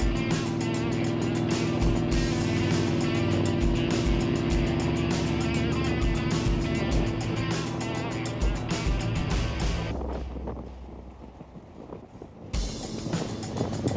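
A red Plymouth Duster cruising up a highway on-ramp and along the road gives a loud, steady engine drone with strong low rumble, easing off briefly near the end before the steady roar returns.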